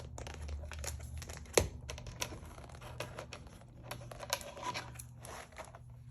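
Plastic wrapping on a craft paper pad is cut open and peeled away, giving soft crinkling with scissor snips and one sharp snap, close and quiet, with no talking.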